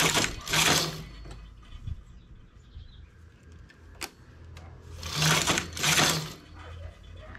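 Carriage of a knitting machine sliding across in rows for rounded-edge shorts, two loud rattling passes at the start and two more near the end, with quieter clicks between.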